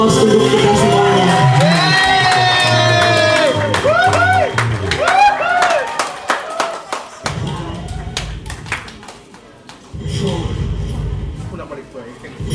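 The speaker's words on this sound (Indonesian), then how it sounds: "Aplaus untuk kita semuanya." An audience at an office farewell-and-welcome ceremony bursts into loud applause and cheering. Dense clapping fades to scattered claps, and voices and shouts come and go throughout.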